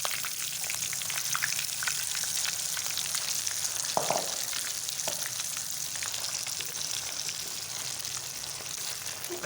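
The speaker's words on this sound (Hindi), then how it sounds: "इसमें ये हमने जो दाल पीसी थी इसी में शामिल कर लेंगे और इसको अब हमने फ्राई कर लेना है" Ground chana daal fries in melted ghee in a kadhai for halwa, giving a continuous crackling sizzle with a brief stirring scrape midway; no voices.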